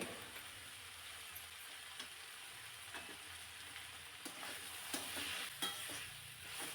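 Dhaba-style mixed vegetables sautéing in a pan, a faint, even sizzle with quiet spatula taps and scrapes scattered throughout, heard from close by without any talking.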